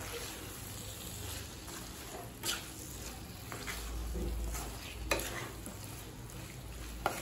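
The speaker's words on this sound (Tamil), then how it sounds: "நல்லா மிக்ஸ் பண்ணிக்கலாம்." A spoon stirs potato and peas masala in a pan, giving a scraping, shuffling stir over a soft background sizzle, with a few louder knocks against the pan.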